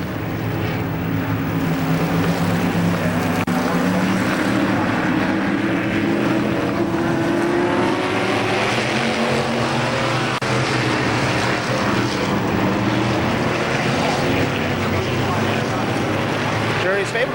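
Race cars roar around KilKare Speedway during the July 4th Championships, a dense, steady wall of engine noise with rising and falling tones as cars pass, loud and continuous throughout.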